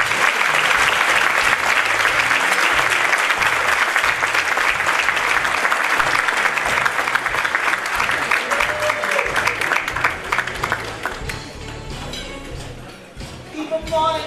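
Loud audience applause rings out for an honoree at a women's awards event, dense, sustained clapping that thins toward the end into scattered claps, with a voice briefly audible over the fading applause.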